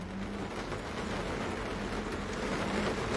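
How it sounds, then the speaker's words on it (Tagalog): Heavy rain pours steadily as a dense, even hiss that holds at moderate level from start to finish, with no voices over it. "Ang lakas ng ulan."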